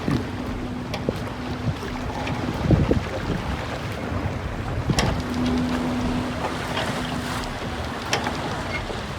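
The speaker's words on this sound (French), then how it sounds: "J'aime ça venir voir passer les bateaux l'été." Steady wind rumbling across the microphone with low engine drone from boats passing on a river, a few sharp knocks and splashes scattered throughout, no talking.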